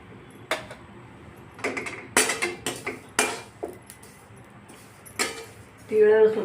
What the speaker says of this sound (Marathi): आता आपण तीळ भाजत आहोत